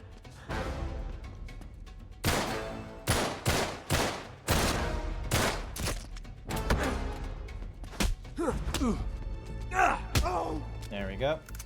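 Nathan Drake fires a gun in Uncharted 3: Drake's Deception, a rapid run of loud, punchy shots and thuds in bursts, layered with game sound and a voice talking.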